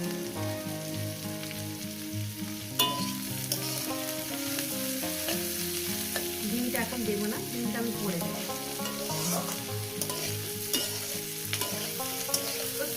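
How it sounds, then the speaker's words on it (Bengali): Ivy gourd (kundru) spread out in a pan fries with a steady, close sizzle and stirring throughout, while someone speaks briefly. "আমি তো এইভাবে ছড়িয়ে ছড়িয়ে দিচ্ছি যাতে সুন্দর করে তাড়াতাড়ি ভাজাটা হয়ে যায়"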